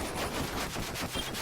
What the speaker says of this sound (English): let's get closer to the fireworks.